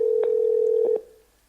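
Telephone dialing tones while reconnecting a dropped call on a live radio show: a steady tone with a few short keypad beeps, ending in a fading tail.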